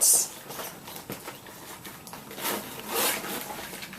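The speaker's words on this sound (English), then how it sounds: "I'm going to go ahead and get started in this front zippered pocket" The zipper on the front pocket of a Diesel Red Eye bag is pulled open with a close, bright ripping sound at the start, followed by soft rustling and a second zipping rasp.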